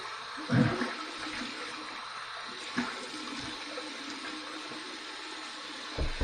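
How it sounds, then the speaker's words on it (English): Warm water splashed and rinsed over the face at a bathroom sink after a shave with an open comb safety razor, a few soft splashes over a steady running tap. "Here's my warm water rinse."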